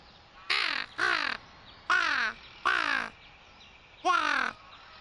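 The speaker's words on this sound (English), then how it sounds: "May I have a crow noise before bed?" A crow caws five times in a loose, uneven rhythm, each call harsh and close, with short pauses between them and no other sound behind.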